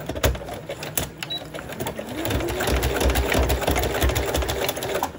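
A sewing machine stitches through a paper envelope, its fast mechanical whirring and clatter running steadily close up, rising slightly in intensity midway.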